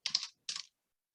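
Keys clatter on a computer keyboard in two short, quick bursts of typing separated by a brief pause, close and fairly quiet, with no talking.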